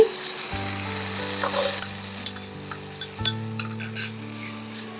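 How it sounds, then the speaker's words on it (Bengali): Cauliflower goes into a hot pan for Bengali-style sago khichdi, setting off a steady loud sizzle of frying with stirring and light clinks of a utensil against the pan. "ফুলকপিটা দিয়ে দিচ্ছি"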